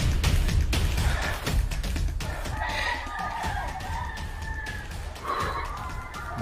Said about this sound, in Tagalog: Dahil manok oh.